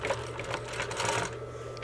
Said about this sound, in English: put them underneath the sewing machine, hold your back threads, sink your needle, sew,